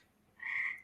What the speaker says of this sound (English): you can probably hear these frogs going to town outside of my window here